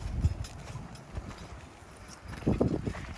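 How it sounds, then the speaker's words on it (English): A three-horse hitch pulling a plow through farm soil, with soft, irregular hoof thuds on dirt, one heavier cluster of steps near the end, over a faint outdoor background. "But 3-horse hitch, you can plow all day long."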